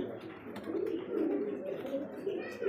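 Pigeons coo continuously in a low, throaty rolling murmur at close range, among a loft of Lahori, Satin, Mukkhi and Bombay breeds, with no talk over the calls.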